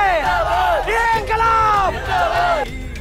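An excited crowd at a 1942 Ballia uprising scene shouts and yells in loud, rising and falling chant-like bursts, many voices together, before trailing off near the end.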